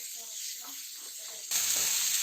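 Roasted onion and chopped tomato cooking in a pan: a steady sizzle and hiss that suddenly grows louder and brighter partway through, with faint stirring sounds under a woman's speech at the start.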